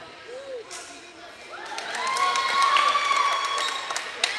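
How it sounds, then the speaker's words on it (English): Crowd applause and cheering at an 8th grade girls' volleyball match, swelling from scattered claps to a sustained, fairly loud roar of clapping with occasional shouts and a whistle-like tone over gym reverberation. "The North Central crowd clapping for their girls."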